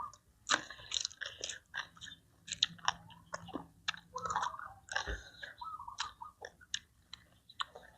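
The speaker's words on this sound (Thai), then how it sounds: "ลองกินมะเขือเทศก่อนนะ" Someone eats tomato with spicy green papaya salad served with grilled quail, giving close, wet chewing and crunchy bites in an irregular rhythm, with no talking.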